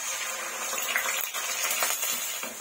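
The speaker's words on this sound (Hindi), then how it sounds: "प्याज को अच्छे से फ्राई कर लेंगे, 3 से 4 मिनट तक गोल्डन ब्राउन होने तक फ्राई कर लेंगे।" Grated onion and cumin frying in oil in a pan, a steady bright sizzle with occasional stirring scrapes and clinks, close and continuous.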